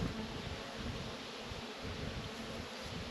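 Honey bees buzz around an opened hive while a swarmy nuc is being split into four hives, making a continuous, dense hum that is partly masked by wind rumble on the microphone.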